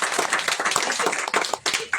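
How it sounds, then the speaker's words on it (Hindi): An audience claps at a church gathering, a brief burst of dense, close applause lasting about two seconds with no talk over it. "ताली बजा सकते हैं"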